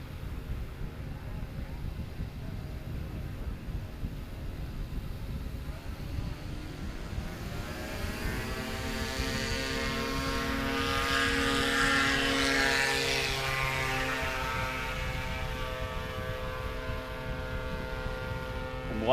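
A STOL airplane takes off during a short-takeoff competition at an airpark, its propeller engine droning steadily and swelling louder as it climbs away, with a faint voice in the background.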